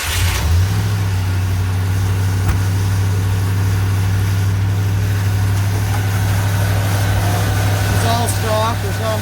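A classic custom car's engine catches on a cold start, then settles into a loud, steady idle with a deep, even rumble that continues for the rest of the stretch.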